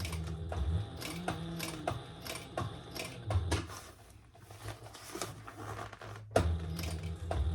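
Sewing machine top stitching a crossbody bag: a quiet, fast mechanical whir and rapid needle ticking in bursts, with a short pause partway through and a sharp click when it stops, then stitching again.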